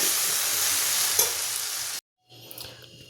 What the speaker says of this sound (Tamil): பரோட்டா சேர்த்தி கொஞ்சம் நல்லா கிளறி விட்டாச்சுங்க